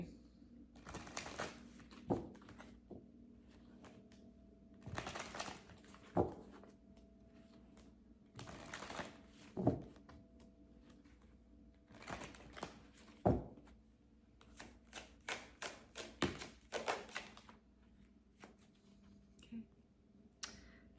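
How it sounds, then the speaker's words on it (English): Tarot cards are flipped over and shuffled on a table, giving close, crisp bursts of papery riffling and slapping at irregular intervals, with a rapid run of short flicks near the end and quiet room tone between them. "Some of my cards are all flipped around. Let's get these all flipped back right."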